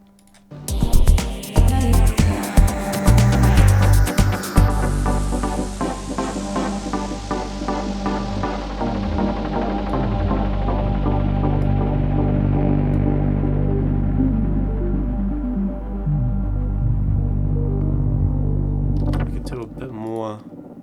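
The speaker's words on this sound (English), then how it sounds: "We don't want to go too much because this feeds back, as we can hear." In a funky house production, an echo effect with a limiter feeds back into a sustained, droning ring that swells and slowly decays after a few sharp opening hits.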